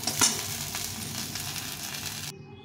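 Okra and onion fry with a steady close sizzle in a pan, then cut off abruptly near the end.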